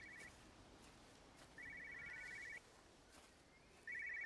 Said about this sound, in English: I can hear a telephone.